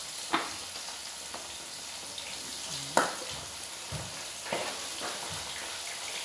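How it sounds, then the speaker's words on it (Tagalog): Okra frying in a pan, a steady close sizzle throughout, with a few sharp clinks and stirring scrapes along the way. "Lagyan natin ang okra din."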